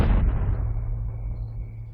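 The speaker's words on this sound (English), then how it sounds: "After the last explosives are detonated" A large blast of blasting-grade ammonium nitrate explosives, likely over 1,000 pounds, booms loudly once and then fades into a long low rumble with no voices.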